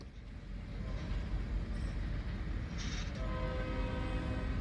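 A train in Coos Bay rumbles past nearby with a steady low roar, and a short horn blast sounds partway through before the rolling wheel noise carries on.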